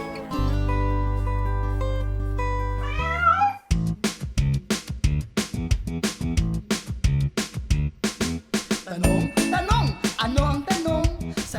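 A cat meows in short, bending cries during a children's show, set against bright synth tones and bouncy background music, with no talk.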